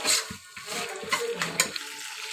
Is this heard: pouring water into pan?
yes